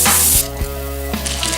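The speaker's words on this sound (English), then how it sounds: "So we throw in the butter, it's going to start melting" Butter and sugar sizzle and melt in a pan for a Bananas Foster sauce, a loud steady frying hiss that drops to a lower, softer crackle after a brief burst, with a couple of soft knocks.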